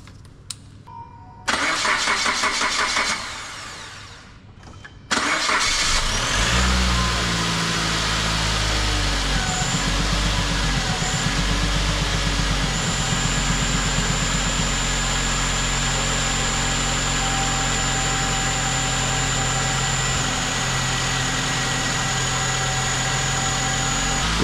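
A Suzuki Grand Vitara engine cranks and catches after a service, with a couple of brief starter bursts before it fires, then settles into a steady, close idle with a droning hum that runs on alone.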